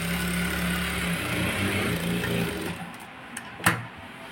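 Sewing machine running steadily while stitching next to the piping on a hand-cut blouse, a continuous motor hum that stops partway, followed by a few faint clicks and a sharper knock.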